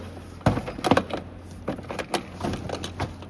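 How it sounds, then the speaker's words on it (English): Plastic pressure clips popping loose as a door panel is pulled off a 2005-2012 Honda Civic driver's door, a string of close, sharp snaps and knocks with rustling and scraping between them, heard alone. "There's a bunch of plastic pressure clips, so pretty much just grab and pull."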